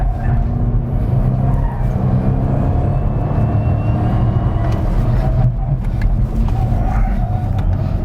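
A car on road tyres is driven hard around a track, its engine roaring loud and constant close up while the tyres squeal and skid through corners.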